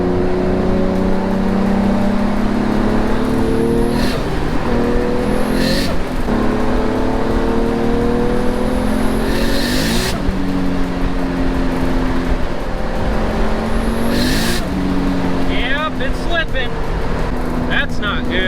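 A manual car makes a night acceleration pull from inside the cabin, its engine droning loud with repeated rising revs and sudden flare-ups as the clutch slips between gears, while a voice talks over it.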